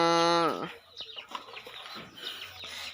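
Chickens clucking close by on a farm, with a loud drawn-out call at the start followed by scattered short clucks under mixed background noise.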